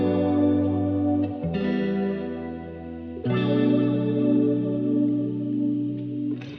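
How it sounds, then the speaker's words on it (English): Layered R&B guitar chords played through a wah pedal with chorus, flanger, reverb and delay, sustained ambient tones shifting chord at steady intervals, loud and alone with no talking. "Next I added a wah guitar layer just to fill out the space a bit."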